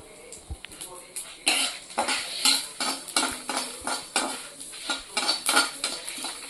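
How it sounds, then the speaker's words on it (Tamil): Pirandai (adamant creeper) sautéed with dried red chillies in a pan for rasam, heard as close, repeated scraping and clinking of a spoon against the pan in an uneven rhythm over faint sizzling. "இந்த பிரண்டை கூடவே வதக்கணும்."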